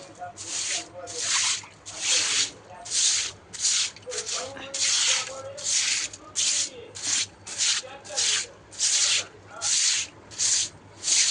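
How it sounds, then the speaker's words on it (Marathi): A broom smearing a mixture over the ground in Holi preparation, with rhythmic scraping strokes about every second, close and steady, and a voice faintly under some strokes. "हाताने पण सारवतात पण मी आपलं खराट्याने घेते"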